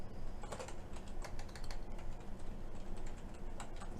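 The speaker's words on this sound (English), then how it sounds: "Type in some letters and numbers." Letters and numbers are typed on a computer keyboard in a run of quick, irregular key clicks, close and steady for about four seconds, with no speech.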